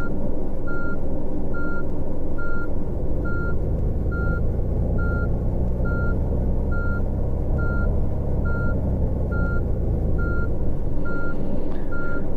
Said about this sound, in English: We're going to reverse.